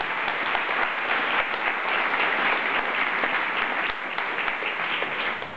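Crowd at an evening thank-you gathering breaks into applause for the honoured group, sustained dense clapping from many people at an even level, easing off slightly toward the end.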